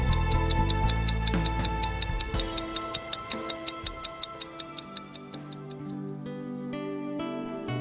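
A wristwatch ticks with a steady, even rhythm of sharp clicks that stands out clearly over a low musical background before fading toward the end.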